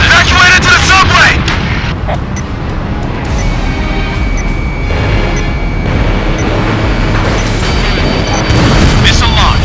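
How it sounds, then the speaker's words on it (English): Naval gunfire explosions in the game Ace Combat Infinity rumble as loud, continuous booming blasts over a dense wash of battle noise, with heavy low-end impacts throughout. "Oceanside hostile. Naval gunfire!"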